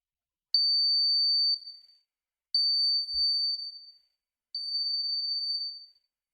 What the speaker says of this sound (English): So as you have heard the buzzer beeping